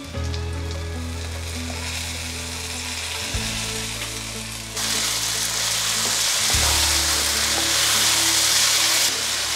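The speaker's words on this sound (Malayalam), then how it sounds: "ആ സമയത്ത് നമുക്കിതിനകത്തേക്ക് ടൊമാറ്റോ പ്യൂരി ചേർത്ത് കൊടുക്കണം." Tomato puree for a North Indian biryani sizzles hard in a hot pan, a loud continuous frying hiss that swells louder partway through, with no voices.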